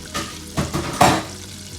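Crispy fried chicken cooking in hot oil until golden brown, giving a steady sizzle with a few louder crackling bursts and light stirring clatter, and no voices.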